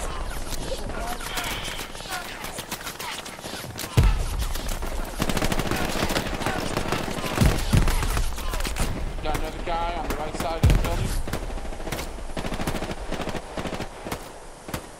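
Machine gun fire in the World War II shooter Hell Let Loose, with bursts of rapid shots and heavier booms mixed through dense battle noise while someone talks over it.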